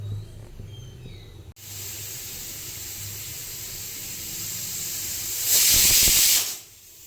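Pressure cooker boiling chickpeas vents steam as a constant broad hiss that swells into a loud, bright burst near the end before cutting off, with no talking.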